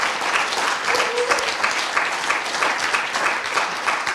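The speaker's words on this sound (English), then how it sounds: "which I think it deserves an applause also" Audience applause at a closing session of an expert and member meeting on migration and drug use, a steady round of clapping from many hands that holds at an even level throughout, with no talking over it.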